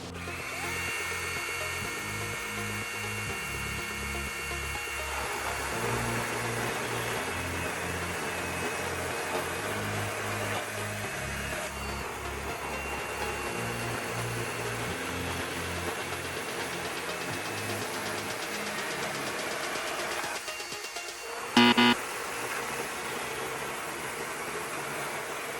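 Compact cordless chainsaws, DeWalt DCCS623 and Milwaukee, cutting down through wood from top to bottom, a loud continuous buzzing whine with shifting pitch as the chain bites, briefly dropping out near the end.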